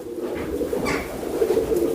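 A Ferozpuri pigeon coos softly and steadily, a low, continuous murmur close by with no talk over it.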